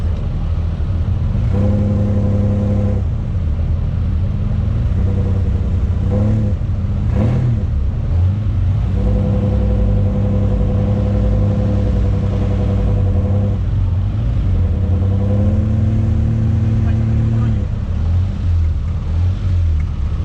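A sand racing car with a 5VZ engine and automatic gearbox revs at a drag race on sand, a loud, close engine drone that surges and rises in repeated bursts.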